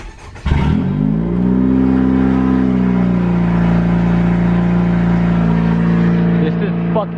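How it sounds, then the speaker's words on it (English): A 10th-generation Honda Civic Si with a catless downpipe cranks and fires up half a second in, settling into a loud, deep, droning idle heard up close and alone. "So it is now flashed, so let's go ahead and turn the car on and see how it sounds for the first time."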